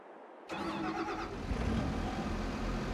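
A tractor engine starts in the video game Farming Simulator 22, cranking abruptly out of silence and settling into a steady mid-pitched idle rumble.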